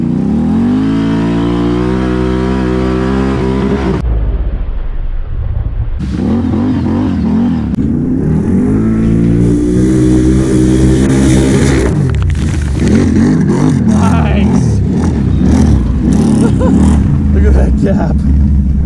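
A 2020 Can-Am Renegade XMR 1000R ATV engine revs hard and close, its pitch climbing repeatedly through loud, continuous throttle pulls during an off-road ride in wet, muddy terrain.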